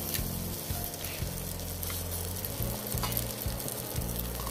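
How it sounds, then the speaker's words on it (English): Homemade crab cakes fry in an oiled skillet, a continuous close sizzle and crackle of hot oil with faint bumps of the pan, and no talking. "we're getting ready to fry up these crab cakes"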